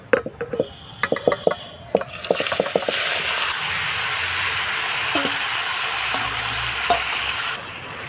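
Spiced potatoes for a jackfruit kaliya hitting hot oil with dried chilli and whole garam masala, a few stirring clinks first, then a loud steady sizzle that holds up close before easing slightly near the end.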